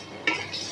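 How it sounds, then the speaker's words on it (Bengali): A utensil scrapes once through vermicelli frying in a wok, a short bright scrape over a faint, steady sizzle, close and quiet. "দিয়ে দিলাম সিমুই, ভালোভাবে ভেজে নেব"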